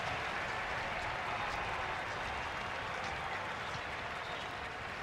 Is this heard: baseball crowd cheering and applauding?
yes